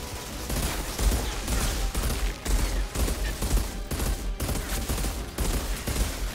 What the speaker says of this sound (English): Shooting this guy, it's like going through him.